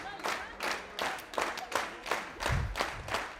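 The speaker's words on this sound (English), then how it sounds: "The crowd got crazy" Crowd applauding and cheering a new champion at the men's final of the 2015 European bowling championships in San Marino, a steady burst of clapping with rhythmic swells and a low rumble of voices.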